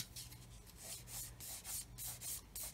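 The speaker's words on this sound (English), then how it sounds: "what I'm going to do here is come in with a sander, put my thumb there and just, and then do the same the other way round" A sander working on a plastic 1/35 scale model missile part, quiet rhythmic rasping strokes repeating roughly every quarter second, close and alone.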